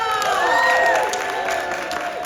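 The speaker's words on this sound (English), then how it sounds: "A round of applause for the Mona Lisa!" Audience applauding and cheering at a steampunk convention tea dueling finale, a dense steady wash of clapping with crowd voices mixed in, sustained loud throughout before easing slightly.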